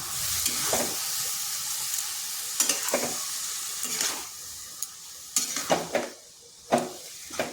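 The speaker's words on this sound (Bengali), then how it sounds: "এরপরে ডিমের সাথে মিশিয়ে নিচ্ছি" Boiled cabbage and green chillies mixed with egg in a pan sizzle softly, while a spatula strikes and scrapes the pan in uneven bursts and sharp clinks.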